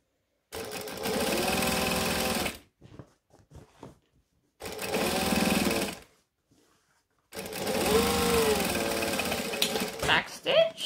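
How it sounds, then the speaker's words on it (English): A sewing machine top stitching runs in three steady, close bursts of fast mechanical whirring, each lasting a couple of seconds, with short pauses of handling noise between them. "I'm going to top stitch."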